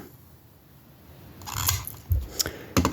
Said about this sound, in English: So I'll tear off a piece of Scotch tape